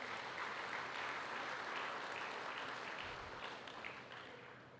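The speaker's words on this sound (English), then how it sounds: "I think we must give this a big round of applause" An audience at a church Golden Jubilee celebration gives a round of applause: a soft, distant wash of many hands clapping, steady at first, then gradually fading, with no voices.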